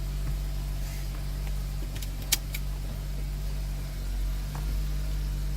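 Car interior on the drive to school: a steady low engine and road hum throughout, with a brief sharp click or jingle near the middle and light cabin rattles.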